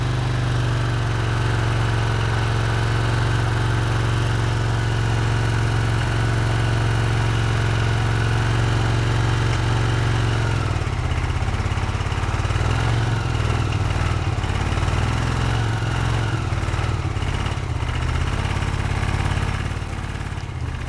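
A Honda CX500 motorcycle engine idles with an uneven misfire on one cylinder, a steady loud close-up rumble that shifts in tone about halfway through and keeps running throughout.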